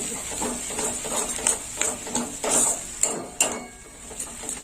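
Coriander and fennel spice paste sautéing in a pan, with steady close sizzling broken by repeated scraping and clinking strokes of a spoon against the metal, alone without talk.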